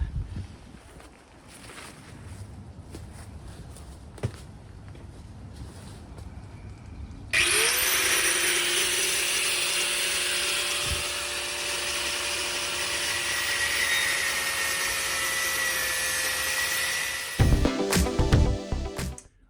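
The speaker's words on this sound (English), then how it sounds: "Just got to get the angle grinder and just cut it off and we're in business." An angle grinder cuts through a galvanised steel roof rack for a Land Rover Defender, starting abruptly as a loud, steady high-pitched whine that holds for about ten seconds before winding down and ending in clanks.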